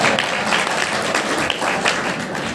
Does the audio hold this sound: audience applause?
yes